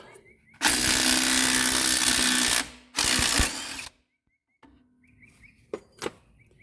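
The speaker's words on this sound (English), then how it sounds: "then we are going to take these U-bolts off" Power tool removing U-bolts on the leaf spring of a Jeep Cherokee XJ, two loud close whirring bursts of about two seconds and one second, then quiet with a few metallic clinks and knocks.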